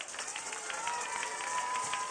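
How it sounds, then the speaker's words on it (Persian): A studio audience at a children's TV show breaks into steady applause, a dense wash of many hands clapping together for a couple of seconds. "خب اگه موافق هستید با یک تشویق قشنگ، همه تشویق قشنگ"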